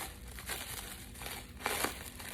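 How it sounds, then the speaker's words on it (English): Protective plastic wrapping crinkles and rustles as it is peeled from the top of a new Harley-Davidson Softail fork leg, a soft steady crackle with a brighter burst near the end, close by and without talk. "unwrap just the top portion, because you don't want to unwrap the entire thing"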